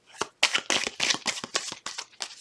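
Tarot cards shuffled in quick bursts of crisp riffling and flicking, about nine rapid pulses close up with no voices.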